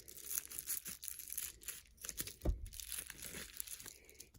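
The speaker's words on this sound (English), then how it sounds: "Let's just cut this open." A package is cut open at close range, giving a stretch of crinkling, tearing plastic and paper with a sharper snap midway, quiet and without any talking.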